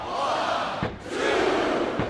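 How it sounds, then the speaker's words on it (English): Arena crowd in the WWE 2K24 wrestling video game cheers and roars as a broad, steady wash of many voices, loud throughout, with a slight dip near the middle before swelling again. "This capacity crowd is making their opinions known tonight."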